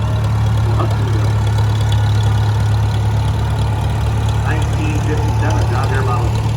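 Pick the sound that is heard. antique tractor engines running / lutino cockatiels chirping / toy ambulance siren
antique tractor engines running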